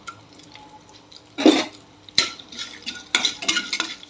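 Tempering spices with crushed curry leaves and green chilies in hot oil: quiet crackle broken by several sharp spoon-and-pan clanks and stirring scrapes, close, no talk.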